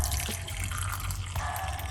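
Herbal tea poured from a pot into a cup, a steady close trickle of liquid running unbroken for a couple of seconds with a slight shift partway.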